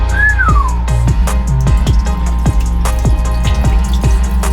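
Water leaks into a boat's hull in a steady, loud rushing gush, with rhythmic churning pulses running through it and a brief rising whistle at the start; nobody speaks.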